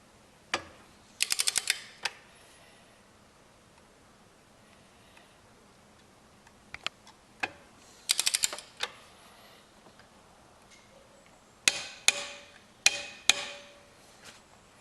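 Clicks of a torque wrench tightening bolts on a Yamaha Zuma 50 scooter engine: sharp ticking bursts in several clusters, close and moderately loud, with quiet gaps between them.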